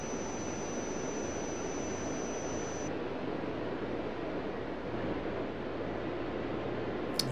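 Emirates jet airliner in the Tower! 2011 airport simulation game, its engine a steady broadband roar holding at even loudness throughout, with a thin high whine that drops away partway through.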